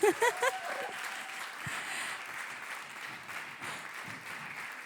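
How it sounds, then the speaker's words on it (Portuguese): A church congregation applauds during a sermon, a soft, steady wash of clapping that sounds somewhat distant. A few brief voiced sounds come at the very start. "Aplauda, irmã. Glória a Deus."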